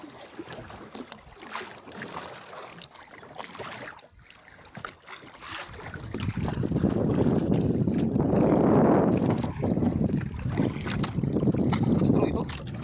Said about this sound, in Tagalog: Hindi na makapasitik ang dalawang bangka.